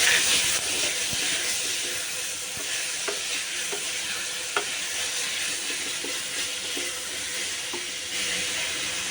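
Tomatoes with salt sauté in a pan for a moong dal kadappa, giving a steady sizzling hiss broken by occasional spoon scrapes and clicks as they are stirred.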